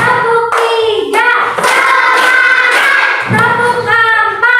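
Clapping from a classroom of children playing a rhythm game comes in quick grouped bursts, with their voices chanting along at close range.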